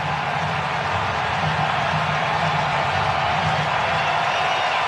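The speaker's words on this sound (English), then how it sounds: "Crowd into it." A crowd at a Detroit Tigers versus Boston Red Sox baseball game roars, a steady, loud, broad wash of cheering and noise that holds for about five seconds with no clear voices.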